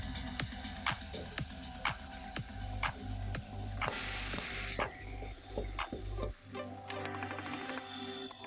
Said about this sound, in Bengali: ভাজা মাছের মাথা দিয়ে কষতে থাকবো।